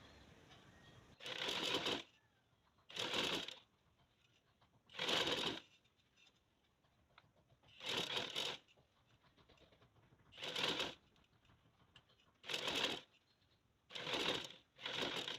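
A sewing machine stitches lace onto a trouser strip in about eight separate runs of steady whirring, each lasting roughly a second, with quiet gaps between them.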